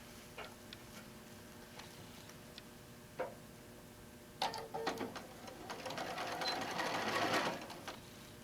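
A sewing machine runs a quarter-inch seam on an apron made from a fabric panel, starting after scattered soft clicks and building into a few seconds of steady, moderately close stitching.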